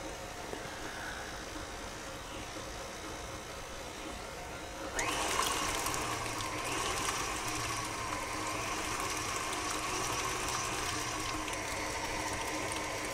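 Electric stand mixer whipping butter on low speed, a soft mechanical whir that steps up slightly partway through and then runs steadily, close and fairly quiet.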